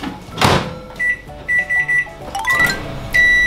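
A microwave oven running at 600W heating bean sprouts in a covered heat-resistant container finishes with a clunk, then a series of short electronic beeps in a stop-start pattern, loud and close, with no voices.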